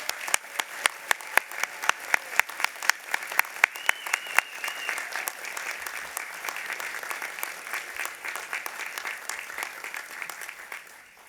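Steady audience applause for graduates at a university Faculty of Health graduation ceremony, many hands clapping with crisp individual claps standing out early, fading gradually toward the end.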